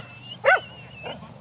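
A farm dog barks once, loud and close, at a farm dog sale at an agricultural showgrounds, followed by a softer second yelp over a low background hum.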